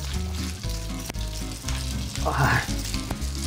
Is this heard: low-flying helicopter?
no